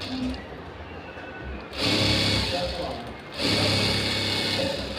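A tailoring sewing machine runs a seam through fabric in two loud, close bursts of rapid, steady stitching. Quieter handling sounds fill the gap between the runs.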